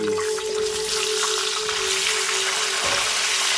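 Baby potatoes fry in hot bacon grease in a breakfast skillet, giving a steady, dense sizzle that stays loud and close throughout, with a steady tone and a brief clatter near the end.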